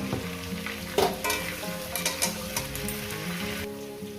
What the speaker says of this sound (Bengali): সামান্য পরিমাণে একটু হলুদ দিয়ে দেবে মিনিমাম পাঁচ মিনিট আমি ভেজে নেব